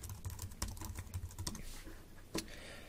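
A computer keyboard being typed on to enter a project folder name, with quick close key clicks in uneven bursts followed by a pause and a final louder tap.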